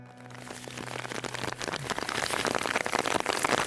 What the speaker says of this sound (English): it is raining cats and dogs, and I'm stuck in the middle of it.